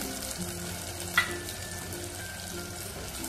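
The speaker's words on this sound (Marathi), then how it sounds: "आपण ही मिरची, लसूण आणि आलं वाटून घेतलेलं हे घालूया." A ground chili, garlic and ginger paste fries with tomato and onion for dal, giving a quiet, steady sizzle with a single brief clink of a spoon against the pan. No talking is heard.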